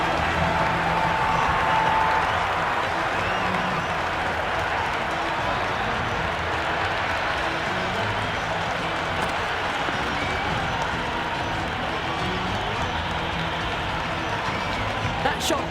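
At a T20 World Cup cricket match between Afghanistan and UAE, the crowd applauds a batter reaching fifty. The sustained, broad crowd noise and clapping run under a commentator's voice.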